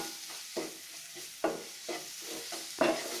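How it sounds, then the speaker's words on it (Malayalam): Masala for a prawn roast sautés in a pan, with a faint steady sizzle under soft, periodic scrapes of a spoon stirring every half second or so. "എല്ലാം ഇട്ട് നന്നായിട്ട് വഴറ്റിയെടുക്കുക. ഇത് 1 മിനിറ്റ് നന്നായിട്ട് മൂത്ത് കിട്ടണം."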